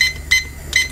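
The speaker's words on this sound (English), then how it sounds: "So let's put the timer on for" A kitchen timer being set while pasta boils gives three short, bright electronic beeps in quick succession, close and clear, with no talk over them.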